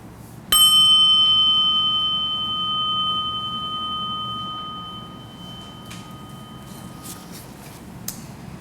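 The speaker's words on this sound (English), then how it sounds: "let us symbolize the creation of our community by the ringing of the chime" A single chime is struck once during a memorial service, its clear metallic ring sustaining for several seconds and slowly decaying in a quiet room, with faint rustling afterward.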